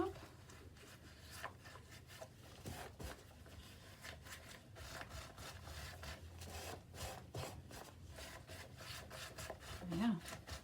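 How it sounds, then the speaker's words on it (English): Mosaic grout being scraped off a tiled surface and back into its tub, a close, repeated rubbing and scratching that runs steadily throughout with brief sharper scrapes and no talk. "Just scrape off any excess we've got hanging around back into the tub."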